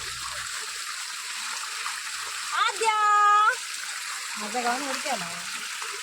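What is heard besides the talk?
water flowing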